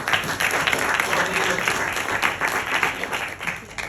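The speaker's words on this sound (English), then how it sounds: "We can give a big round of applause to her also." A crowd applauds warmly and steadily, a dense continuous patter of many hands clapping throughout.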